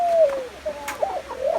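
A pigeon or dove coos several times up close, the soft calls rising and falling across a couple of seconds, outdoors in Jamaica on Boxing Day with a chicken nearby.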